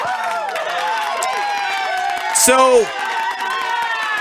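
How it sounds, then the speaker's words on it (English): A large BlizzCon crowd at a Diablo 20th anniversary party claps and cheers in a loud, dense, continuous roar, with a brief sharp whoop and a single spoken word partway through. "for that you get a big applause"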